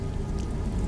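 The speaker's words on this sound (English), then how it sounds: "Uh-oh, it's raining." Rain falls steadily in a video game, a dense, even patter of drops on surfaces that holds at a constant level for the whole moment with no other sounds.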